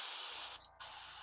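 An airbrush sprays paint in a steady, close hiss that breaks off for a moment and then resumes.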